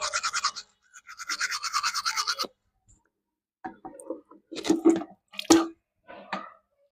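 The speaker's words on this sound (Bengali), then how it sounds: "এখন আমি ব্রাশ করব, মুখ হাত ধুয়ে নিব" A toothbrush scrubs teeth at home in two bursts of rapid, close brushing strokes, followed by quieter clicks and scrapes with short pauses between them.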